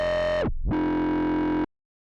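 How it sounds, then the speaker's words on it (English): Synthesizer bass from Ableton Meld with drive fully up, a buzzy distorted held tone that swoops down and back up in pitch, then sustains briefly before cutting off abruptly. "And then I went ahead and turned the drive up all the way, which might be a little bit crazy."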